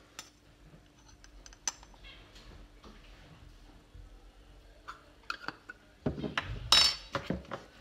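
A utensil stirs dry muffin ingredients (flour, sugar, baking powder, salt and cinnamon) in a bowl, producing quiet, scattered clinks and scrapes that grow busier toward the end.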